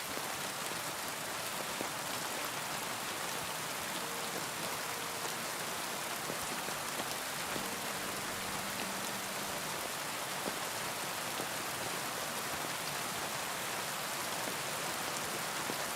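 Steady rain falls in the medieval open world of the video game Kingdom Come Deliverance II, a dense, even wash of drops that continues unbroken throughout, with no voices.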